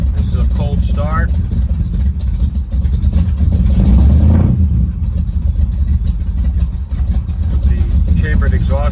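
A 1968-69 first-generation Camaro with chambered exhaust running after a cold start, a loud deep exhaust rumble that rises in a rev midway, with a voice briefly over it.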